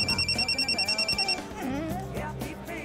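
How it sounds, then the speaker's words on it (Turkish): A telephone rings in steady electronic bursts for over a second, then cuts off abruptly as music and other sounds continue underneath. "Kapat telefonu, kapat."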